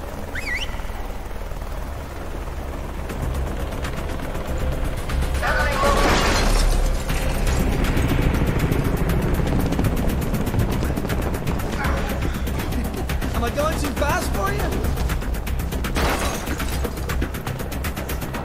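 Rapid gunfire crackles from the Deadlight video game in dense bursts over a continuous, rumbling game soundscape with mechanical noise, going on steadily for the whole stretch.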